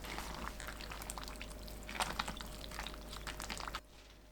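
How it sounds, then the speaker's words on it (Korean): Hot pickling brine is poured over spring cabbage, a soft continuous splashing pour with a low steady hum beneath, fairly quiet and close, ending abruptly near the end. "뜨거운 상태로 봄동 위에 부어줍니다."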